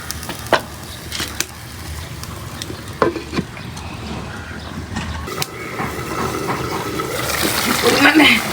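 Young jackfruit fries with shrimp and potato in a pan, sizzling steadily while a spoon scrapes and clatters against the metal. The frying hiss grows louder toward the end.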